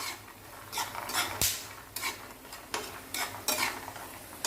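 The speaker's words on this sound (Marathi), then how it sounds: "आणखी थोडंसं हलवून घेणार आहे" Roasted peanuts, chilli and garlic being stirred in a pan off the heat, a run of soft scraping and rattling strokes with one sharp metallic clink, close and fairly quiet with no talking.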